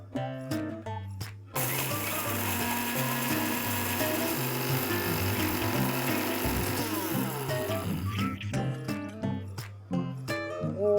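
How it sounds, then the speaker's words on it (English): Electric spice grinder whirring through roasted, cooled whole spices, a loud continuous grinding roar that runs for several seconds after a few short taps, then stops, with brief clatter at the start and end. "Now I'm just going to grind them up."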